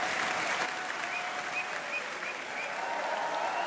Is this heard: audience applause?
yes